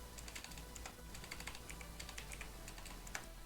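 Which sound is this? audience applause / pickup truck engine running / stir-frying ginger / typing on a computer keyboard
typing on a computer keyboard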